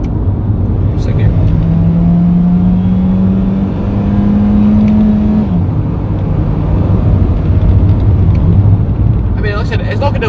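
A 2010 Honda Fit RS with a 1.5 VTEC engine and 4WD pulls hard in second gear, its engine note droning and climbing steadily from inside the cabin, then dropping away at the shift, with a voice briefly heard near the end.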